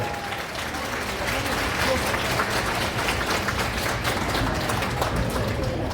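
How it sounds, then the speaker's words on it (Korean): Wedding guests in a wedding hall applaud as the ceremony begins, giving a steady, even wash of many hands clapping that holds for several seconds at moderate loudness, with a faint low rumble of the room beneath it. "박수 부탁드리겠습니다"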